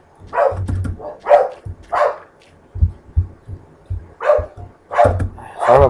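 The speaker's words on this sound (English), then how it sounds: "Sorry about my dog barking." Several sharp barks from a Rottweiler boxer mix burst out in clusters, fairly loud and close, with short pauses between the volleys.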